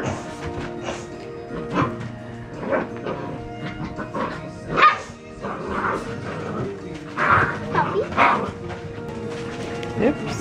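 Red and black standard poodle puppies yip, bark and whimper indoors in scattered short bursts, fairly close, with people talking softly over and between the puppy sounds.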